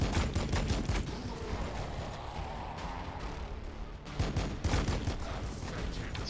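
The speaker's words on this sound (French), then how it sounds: "Le pistolet inferno il fait plaisir." An inferno pistol firing in Warhammer 40K Battlesector, bursts of loud crackling shots and impacts over a busy battle din, with sharp blasts clustering near the end.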